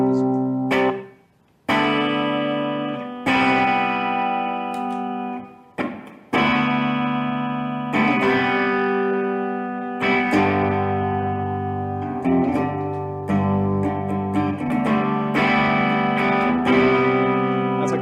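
Electric guitar chords and notes played through the room reverb setting of a T-Rex effects pedal, ringing with a moderate, natural room tail between strums, loud and without talk.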